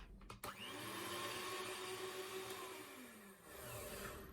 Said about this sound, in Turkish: Mikserle biraz köpürtüyoruz.